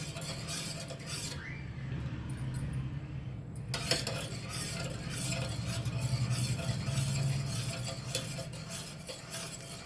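A spoon stirs ragi malt in a pot in steady, continuous scraping and swishing strokes against the metal, close and moderately loud, with no talking.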